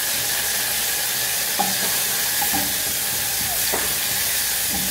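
Garlic fries in oil until browned, giving a steady loud close sizzle with a few faint clinks and pops of stirring, no voices.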